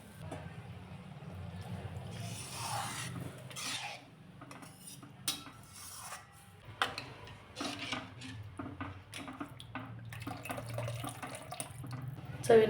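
Water is poured into a simmering, spicy, hotel-style taro leaf (alu) curry gravy, with clinks of pots and utensils and a faint low hum beneath, at a moderate level close by.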